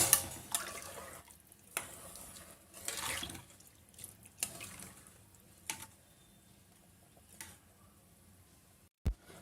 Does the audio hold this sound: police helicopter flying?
no